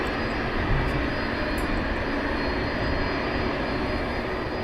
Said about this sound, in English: We'll let the aircraft, land, because I think this is more important than watching the aircraft land at the moment.